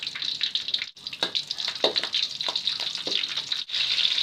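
Chili and shallots dropped into hot oil for sambal goreng petai, a bright, hissing sizzle with crackling pops that runs steadily through a few seconds, briefly dipping twice.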